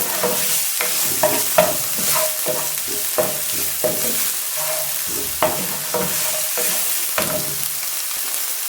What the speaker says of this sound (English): Then continue stirring.